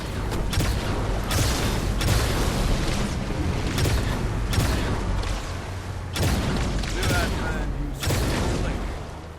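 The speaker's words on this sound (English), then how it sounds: "the Gauss Warthog. It has this meaty cannon on the back of it instead of a minigun" A Gauss Warthog's rear-mounted cannon in Halo 2: Anniversary fires heavy, booming shots at a steady pace, each blast loud and broad, landing amid continuous noisy battle ambience.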